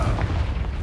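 A Confringo spell explosion in Hogwarts Legacy, a single short low boom with a rumbling burst, moderately loud and alone.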